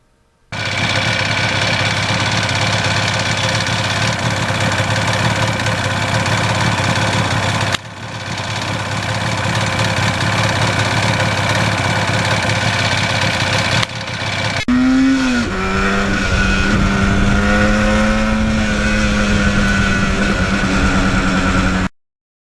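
A 1977 Yamaha RD400 two-stroke motorcycle on a test ride, its engine droning loud and steady with a raspy buzz, dipping briefly at gear changes, then rising and falling in pitch as it revs and pulls away.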